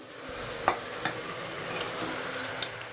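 Tomato and capsicum added to a pan of golden-brown fried onions and peas: a soft steady sizzle with a few sharp scraping stirs of a spoon against the pan, and no voices.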